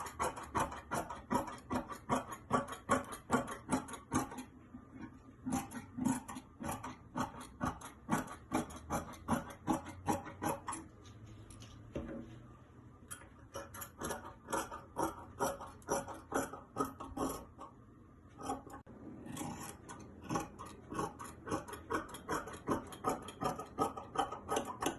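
Scissors cutting fabric for a bodice, a quick steady run of crisp snips close by, repeating rhythmically with only brief pauses.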